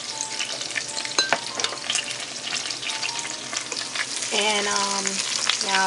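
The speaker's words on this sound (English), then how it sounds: "the lobster is cooking" Lobster tail cooking in a pan for a Haitian-style dish, a steady frying sizzle with occasional stirring clatter running under brief talk.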